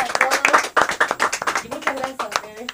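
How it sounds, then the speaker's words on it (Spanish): Audience clapping for a group of female dancers at a live streamed show, a dense, irregular burst of hand claps close by with voices mixed in. "Aplauso para las bailarinas que la rompieron todas."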